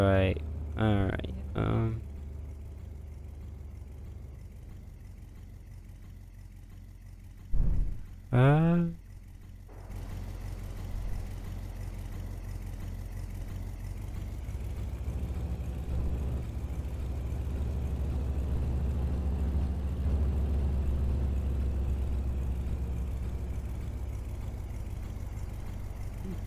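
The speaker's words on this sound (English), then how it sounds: "We're gonna try and just drive this up on the trailer." A car in Farming Simulator 22, found at an auction barn, driving up onto a trailer: a low steady engine drone that swells gradually, with someone talking over the opening seconds.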